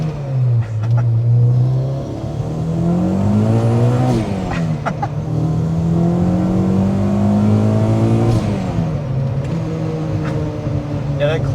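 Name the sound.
supercharged Honda Civic Si accelerating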